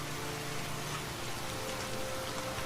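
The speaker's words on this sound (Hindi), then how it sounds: "बहुत तेज़ बारिश हो रही है और साथ में ठंडी हवाएं भी चल रही हैं" Heavy rain pours steadily in a cold, windy night over a village, a dense continuous hiss of drops on surfaces holding at an even loud level throughout with no voices.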